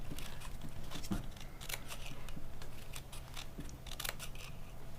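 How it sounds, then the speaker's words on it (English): Scissors snip through two layers of crepe paper down to a wire stem while making a lavender plant, with repeated close crisp cuts in a quick uneven rhythm and no talking. "I'm cutting 2 layers at a time, and I'm just going to cut all the way down to the wire."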